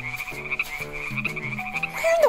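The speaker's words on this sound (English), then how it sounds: "Where in the world did all of those frogs come from?" Several frogs croak together in a dense, overlapping chorus of rhythmic pulsing calls, loud and close, with a rising squeal near the end and no talking.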